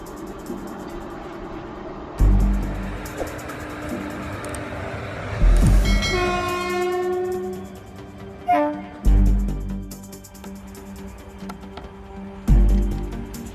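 A train rolls past with heavy rhythmic clunks every few seconds, and a loud horn blares in the middle before fading.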